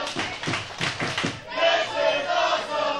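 A wrestling crowd at an independent pro wrestling event cheers and shouts. Rhythmic clapping and a commentator's voice come first, then a sustained roar of voices swells.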